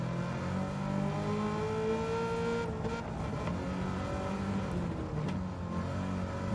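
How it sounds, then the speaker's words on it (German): A Chevrolet racing car's engine in Gran Turismo 7 drones loud and close at steady high revs, pitch rising and falling through gear changes and corners, with a brief tire squeal and no talking. "Richtig schnell fahren über die Curbs"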